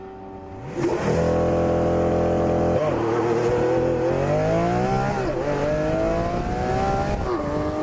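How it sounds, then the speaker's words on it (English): A Lamborghini Aventador LP700-4 launches hard on a street using launch control, its engine roaring loud and close, climbing steeply in pitch and dropping briefly at each quick gear change as it keeps accelerating. "I didn't think Lamborghini execs would appreciate my testing launch control at Homestead, so I gave it a go on the street"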